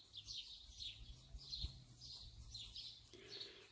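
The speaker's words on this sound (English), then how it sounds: "will you hear me from these birds around chirping?" Several small birds chirp and tweet outdoors in nature, repeated bright calls scattered across the scene at moderate distance, with a soft low rumble beneath and no talking.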